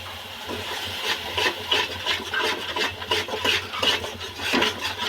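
Spice masala of Kashmiri chilli powder and salt stirred in a pan for prawn malaikari, with steady scraping, rasping strokes repeating at a close, even rhythm and no talk.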